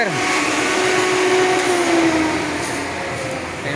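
Loud, steady blower noise fills a bus terminal mezzanine, a constant broadband roar with a faint tonal whine that stays even throughout, with no talking.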